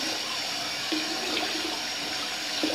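Water running steadily from a tap to rinse off after a shave, a close, continuous splashing flow with faint clinks.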